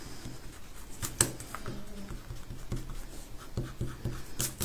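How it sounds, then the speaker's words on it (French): Pencil lines being rubbed out with a rubber eraser on a paper card, a quiet, close series of quick scratchy strokes in an irregular rhythm, with one sharper tap partway through and no talking. "je vais tout de suite gommer mes petits traits"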